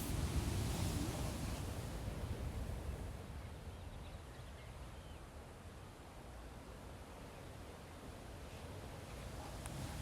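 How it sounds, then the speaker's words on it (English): Ocean waves wash onto a sandy beach in a soft, steady, hissing roar, fairly faint and distant, slightly louder at the start, with no voices. "I'm sitting here on the sand behind me, and in front of me is the ocean"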